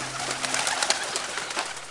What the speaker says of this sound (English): But only a flock of scared pigeons greeted them.